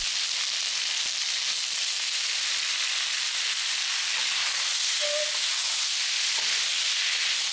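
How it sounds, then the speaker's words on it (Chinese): Steady loud sizzle and hiss of chicken and bitter gourd stir-frying in a hot wok with bean paste and oyster sauce, continuous close frying with occasional clinks. "接下来就可以下鸡肉和苦瓜了"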